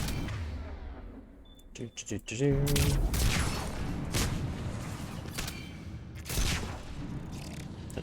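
Rocket explosions and heavy weapon fire in a Mass Effect 3 firefight, a dense run of booms and blasts with bursts of impacts, loud and close, while someone talks over the action.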